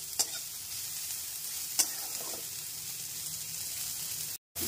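A steady oily sizzle of bottle gourd peel frying in a pan, with a couple of sharp clinks from stirring.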